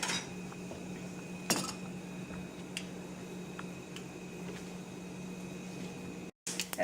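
Mustard seeds splutter in hot oil in a pan on a low flame for sambar, giving sparse faint pops and crackles over a steady background hum.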